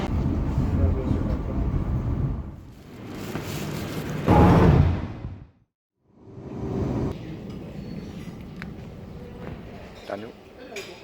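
A train in India rumbles and rattles close by, with a loud surge of rolling noise that fades into near silence before the carriage hum and clatter return, while people talk over it.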